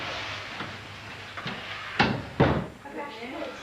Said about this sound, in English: Come in and shut the door, Mr. Hart.